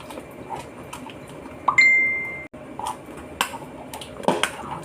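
A utensil stirs a sauce mixture for a spicy cucumber salad in a bowl, giving scattered light clinks and scrapes with one brief ringing tone, all fairly quiet with no talking.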